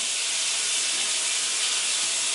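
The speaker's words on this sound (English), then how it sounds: "Now we're gonna use hot water." Hot water runs steadily into a kitchen sink in a basic cooking lab, a continuous even hiss with no pauses and no voices.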